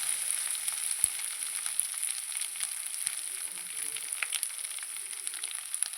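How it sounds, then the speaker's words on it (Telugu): A tempering for tamarind rice fries steadily in hot oil, a fine continuous sizzle with faint crackles and small pops throughout, close by and without any voices. "ఇవి ఫ్రై అవుతున్నాయి బాగా"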